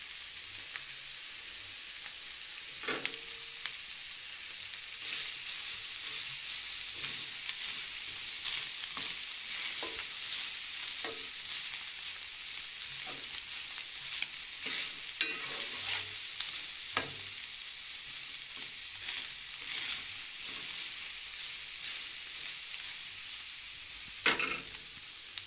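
Alambre-style food cooking in a pan, a continuous loud sizzle and crackle lasting the whole stretch, with occasional spatula scrapes and clicks and no one speaking.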